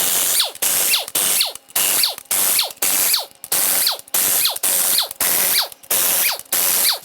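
Air ratchet or impact tool loosening main bearing bolts on a blown-up 2014 RAM 2500 6.7L Cummins diesel engine, heard as about a dozen loud, evenly spaced hissing bursts, close by.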